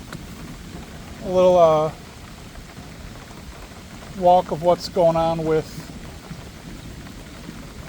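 Heavy rain hisses steadily outdoors during a major thunderstorm, with water running off nearby, and someone speaks over it in two short bursts.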